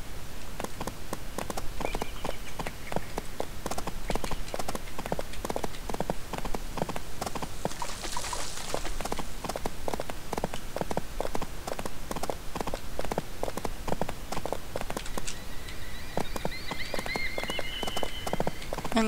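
Horse hooves in the Barbie Horse Adventures video game clop in a fast, steady rhythm throughout, loud and close, with faint chimes and game effects layered over the continuous gait.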